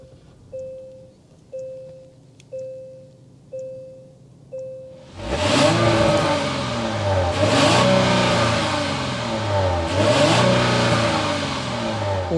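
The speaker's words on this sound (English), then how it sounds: "start it up so you can hear that exhaust note" Five soft chimes, then a 2024 Genesis G80 3.5T Sport's twin-turbo V6 starts and revs repeatedly, the exhaust roaring up and settling back in three strong surges, close by.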